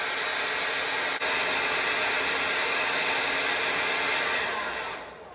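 A hot air gun blows a steady, loud broadband rush onto the NTC temperature sensor of a DR. PREPARE 12V 300Ah compact LiFePO4 lithium battery. The noise holds evenly for about five seconds, dips for a moment, then fades out.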